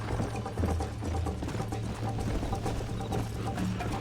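Horse hooves clopping steadily in the Western video game Red Dead Redemption, a continuous galloping rhythm layered with game music and ambient sound, no talk over it.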